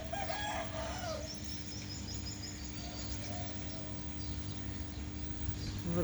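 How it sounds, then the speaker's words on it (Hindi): A rooster crows in the distance against steady outdoor background noise, followed by fainter bird calls. "मुर्गानी आवाज"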